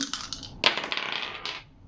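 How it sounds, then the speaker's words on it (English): Dice are rolled during a tarot card reading, producing a quick series of sharp clattering taps and rattles as they tumble and settle, loud and close with no talking. "now let's see the dice"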